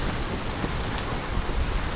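Steady rain pours down in a dense, even hiss, with a faint low rumble underneath and no voices.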